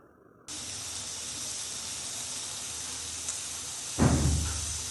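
Pressure cooker holding biryani lets out a loud, steady steam whistle hiss that runs nearly the whole time, with a sharper burst of rushing steam near the end.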